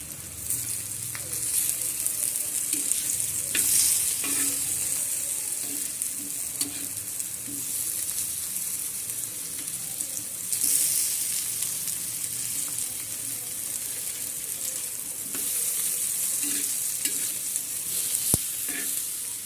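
Slices of raw plantain frying in a pan give a continuous gentle sizzle with occasional scraping stirs and small crackles, held at an even, moderate level throughout.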